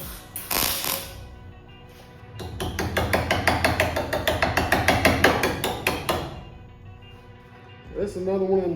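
Hammer blows shape the rusty metal windshield gutter on a 1971 Chevelle during restoration, a run of about twenty rapid, evenly spaced strikes ringing close and loud, with quieter taps and brief pauses around them.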